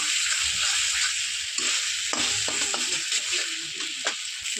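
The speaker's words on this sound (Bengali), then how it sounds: "এবার মশলাটি ভালোভাবে কষিয়ে নেব। এই দেখো, তেল ছাড়তে শুরু করে দিয়েছে।" Turmeric-spiced masala sizzles steadily in hot oil for chicken kosha, with scraping stirs and soft clatters breaking through the continuous close frying hiss.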